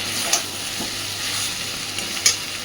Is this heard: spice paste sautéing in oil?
yes